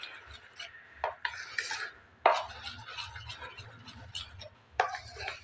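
Baking powder and cardamom powder being stirred into a cake batter in a bowl, giving soft scraping and rubbing strokes with a few sharper clinks of a spoon against the dish, close and fairly quiet, with no talking.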